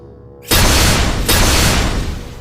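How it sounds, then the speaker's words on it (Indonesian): Big explosion effect: a sudden, loud, broadband boom bursts in after a quiet moment, followed by a second blast and a long rumbling decay, with no speech. "Ledakan besar terjadi."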